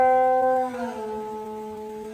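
Plucked guqin strings sound three sustained notes, the tones bending and sliding in pitch as they ring and slowly fade, played alone and close.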